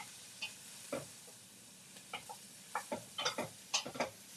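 Carrots being stirred in a pot for soup: a quiet run of scattered scraping and clattering strokes, sparse at first and then quicker and clustered, with a faint sizzle in a quiet room.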